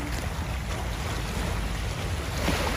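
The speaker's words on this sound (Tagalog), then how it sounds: "Dahil yan malakas ang ang alon at hangin nga ay naku." Strong wind and waves at Manila Bay make a steady, loud rushing roar with constant gusty buffeting, and no voices can be heard.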